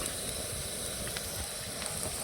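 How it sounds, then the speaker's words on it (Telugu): Tempering for poha sizzling in a pan, a steady hiss of oil with faint crackles, close and continuous without pause. "తాలింపు వేగింది."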